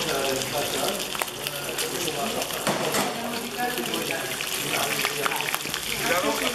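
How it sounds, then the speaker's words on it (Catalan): Fish, including monkfish, frying in a pan for a Catalan suquet stew, giving a steady, loud sizzle and crackle with watery hiss that runs throughout under someone talking. "I el fregim una miqueta"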